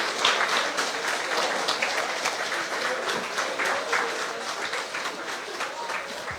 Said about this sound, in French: Et vous vous applaudissez bien fort.